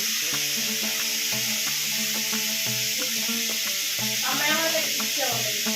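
Fish head cooking in a pan at home, a steady close sizzle under persistent background music, with brief stirring scrapes near the end.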